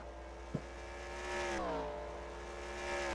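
Race car at Phoenix flying past with a rising, sweeping engine note that drops in pitch as it passes, a sharp click early on, then a second car approaching loudly at the end; no talk.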